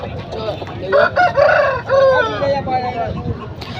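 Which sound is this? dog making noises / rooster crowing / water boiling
rooster crowing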